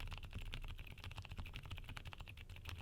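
Rapid, steady typing on a mechanical keyboard with tactile Gateron switches, a dense run of close, crisp key clacks with a soft thock beneath, no voices.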